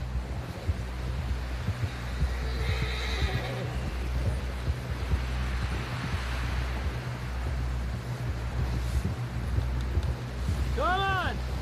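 In a Red Dead Redemption II game scene, a horse whinnies near the end, over galloping hoofbeats and a steady low rumble, with speech earlier on.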